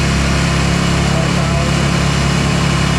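A UTV engine runs loud and steady close by as it climbs a slope, holding a constant mid-range drone with no breaks and no voices.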